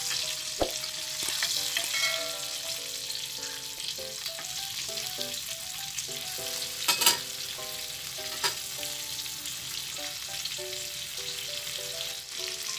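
Katla fish fries in a pan with a steady, close sizzle, and a spoon knocks against it once or twice as the pieces are flipped. Background music plays throughout and nobody speaks.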